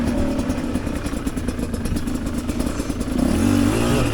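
Engine of a Chinese dirt bike pulls away through the gears, a continuous loud chugging drone with a rising rev at the end as the rider shifts up and putters along.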